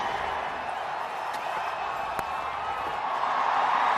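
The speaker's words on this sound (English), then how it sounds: "The crowd are cheering, but is it too little too late?" A cricket crowd at a Dublin T20 match between India and Ireland cheers after a big wicket, a steady, broad roar of many voices that swells slightly toward the end.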